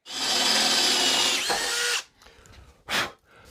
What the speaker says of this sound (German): Das Ganze wird dann mit 7 mm aufgebohrt.